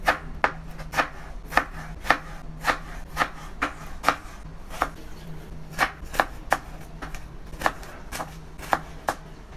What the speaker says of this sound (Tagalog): so ganun din yung hiwa na gagawin ko, cubes na maliliit